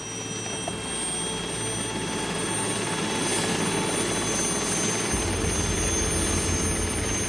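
Military Alouette II helicopter in flight, a steady, loud rotor and turbine drone heard from inside or close by, with a deeper low rumble joining partway through; no talk.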